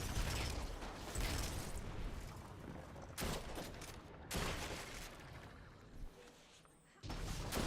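A gun fires repeatedly in Destiny 2, loud dense bursts broken by brief pauses, with mechanical clatter in a noisy game soundscape.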